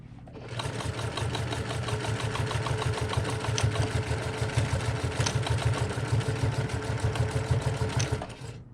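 Sewing machine back stitching a tote bag seam, a close, loud, rapid mechanical whir and needle chatter running steadily for about eight seconds before stopping.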